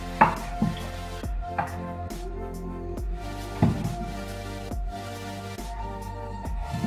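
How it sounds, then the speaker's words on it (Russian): Scalded, peeled tomatoes are cut into large cubes on a board for a homemade pork stew, with a knife striking in a slow, uneven rhythm of distinct chops. The sound is close and alone, with no talking. "Теперь эти помидоры нужно нарезать крупным кубиком."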